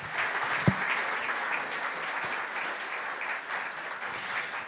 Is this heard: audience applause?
yes